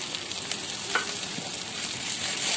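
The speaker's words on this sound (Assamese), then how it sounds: "এয়া আদা নহৰু পেষ্ট দিছোঁ।" Ginger garlic paste frying in hot oil with chopped onion during preparation of an Assamese-style fish curry, giving a steady, close, moderate sizzle that runs evenly throughout without speech.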